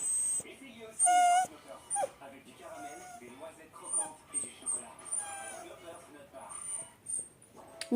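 A dog whimpers and yips in short, high-pitched bursts that come and go over several seconds, mixed with a person talking nearby.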